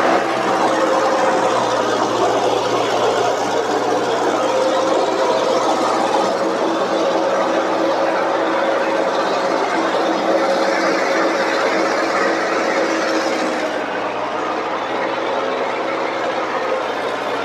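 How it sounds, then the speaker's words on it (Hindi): John Deere and Mahindra tractors locked in a tug of war against each other, hauling 200 quintals of load, give a loud, steady, continuous engine drone that strains without letup throughout. "ट्रैक्टर भाई जी काफी जोर आने लग रहे हैं,"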